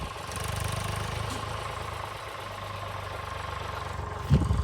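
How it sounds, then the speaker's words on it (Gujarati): A cement-hauling tractor engine runs at a steady, medium-loud chugging drone nearby, with a brief louder knock near the end. "આ બાજુથી ટ્રેક્ટર આવે સિમેન્ટનું સિમેન્ટનું ટ્રેક્ટર જબરીનું"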